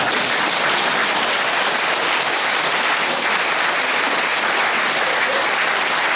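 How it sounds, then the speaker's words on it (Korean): An indoor crowd gives dense, steady applause at a parish pastoral council appointment ceremony, the clapping loud and continuous for several seconds with no break. "박수도 주시면 괜찮습니다."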